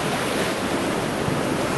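Ocean surf breaks steadily on a North Carolina beach, a loud, continuous wash of waves with some wind noise on the microphone and no voices.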